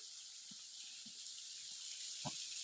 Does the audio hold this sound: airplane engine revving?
no